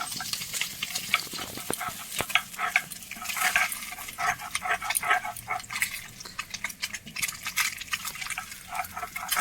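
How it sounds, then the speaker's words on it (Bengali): Fish frying in a pan of oil, a continuous loud sizzle with crackling spits and occasional stirring scrapes, close up and without talk. "অনেক মাছ একবার ভাজা হয়ে গেছে ফের একবার দিয়েছি"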